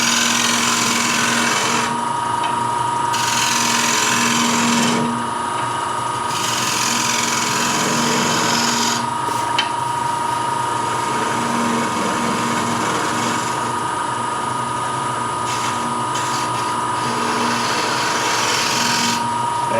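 Lathe turning tool shaving across the face of a spinning wooden platter, a continuous close whirring hum with a steady scraping hiss, its rasping texture rising and easing as the cut comes and goes.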